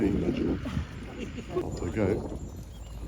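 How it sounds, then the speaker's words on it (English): Working horses walk along a ploughing ridge at the National Ploughing Championships, their soft clip-clop steps rising through a busy outdoor crowd as people talk over them nearly throughout. "Look how smart these horses are."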